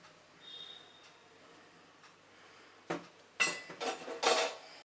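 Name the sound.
rice batter being transferred into a vessel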